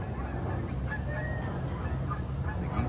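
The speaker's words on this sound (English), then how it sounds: "The geese are still fighting over nesting territory that's on the roof." Geese honking as they fight over nesting territory on a rooftop near a resort balcony, several harsh honks rising over a steady outdoor background hum, moderately near.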